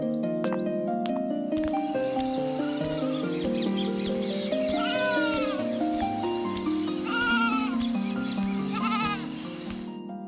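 Several sheep bleat repeatedly in a shepherd's pastoral setting, their calls rising and falling over about ten seconds, with light birdsong and a steady tonal backdrop.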